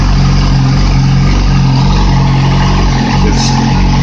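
A 2008 Yamaha R6R motorcycle engine runs on open headers with no exhaust tip fitted, giving a loud, steady, continuous drone at close range with no voices.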